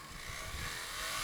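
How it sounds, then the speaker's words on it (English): A BMW GS flagship motorcycle engine revs hard at full throttle, a steady, loud roar that builds slightly over a short burst with no talk. "when you open the throttle full, a lot happens. You go forward very quickly."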